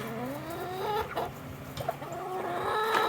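A chicken clucks repeatedly in a series of short, rhythmic calls, close by, with soft background noise.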